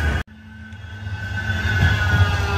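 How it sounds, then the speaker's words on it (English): A tram passes along a sunny city street in Manchester, its steady rumble and rail hum rising close by and building over a couple of seconds after a brief cut at the start. "Look, trams."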